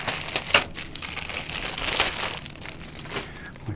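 A resealable plastic parts bag from a Takom Panzer I Ausf A model kit is handled and squeezed, giving a run of close, irregular crinkles and crackles with a few sharper rustles.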